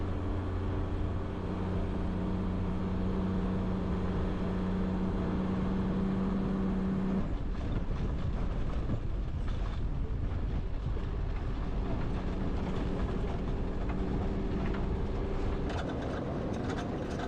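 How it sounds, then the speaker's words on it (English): Continuous rattling and clatter from a loose winch on an off-road car driving along a snowy mountain range track, a steady rough metallic vibration over engine rumble throughout. "I must apologise for the rattling that's coming from my car. Unfortunately, the winch decided to come a bit loose"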